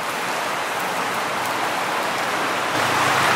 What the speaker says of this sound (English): It is raining sideways.